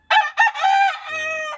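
An Asil rooster crows nearby in a loud, clear cock-a-doodle-doo, a short burst of harsh rising notes followed by a long drawn-out final syllable, heard alone.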